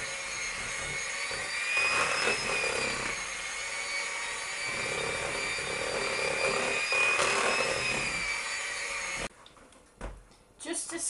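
Triple chocolate cake batter beaten in a bowl with an electric mixer, a steady whirring motor hum lasting about nine seconds, then cutting off into quieter scraping and handling noises.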